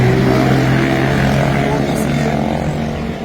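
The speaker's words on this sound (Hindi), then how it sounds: "जैसे अभी ये बाइक की आवाज आई है ना, ये स्पोर्ट्स बाइक लेके जा रहे हैं मौज मस्ती करने के लिए" A sports motorbike passes nearby with a loud, steady engine drone that holds throughout and eases off slightly toward the end.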